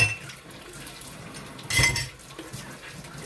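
Dishes used by the youngest child being washed, with clinking cutlery, plates and running water close by, plus one louder clatter partway through.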